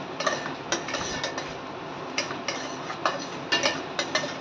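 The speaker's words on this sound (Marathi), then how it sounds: "हे थोडेसे मनुके सगळं परतून घ्यायचे." A spoon scrapes and clinks against a pan as raisins are stirred and sautéed for sweet sheera, with light irregular metallic taps and a soft continuous sizzle close up, and no one talking.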